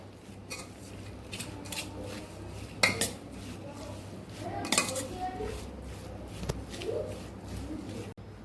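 Grated raw mango being mixed with turmeric and salt in a bowl for an instant mango pickle, giving a few scattered metallic clinks and scrapes of a spoon against the dish over a steady low background hum.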